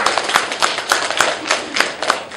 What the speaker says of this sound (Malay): Jadi bagi tepukan sikit kepada pengurusan PTSR ni.